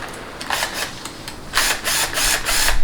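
A low-power impact wrench set to about 71 inch-pounds tightens transmission bolts during a 6L80 rebuild, giving several short, close, loud mechanical rattling bursts separated by brief pauses.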